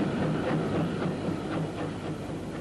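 A British Railways steam locomotive, number 30583, recently overhauled and running on the Lyme Regis branch, heard as a steady rolling rumble with rhythmic wheel beats, moderately loud and continuous with no voices.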